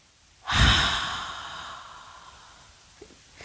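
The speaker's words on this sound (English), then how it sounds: "So it sounds like Darth Vader. kind of breathing." A slow, deliberate breath in the style of Darth Vader, inhaled through the nose and pushed out through the mouth during a kids' yoga breathing exercise, rising sharply then fading over about three seconds with a faint second breath near the end.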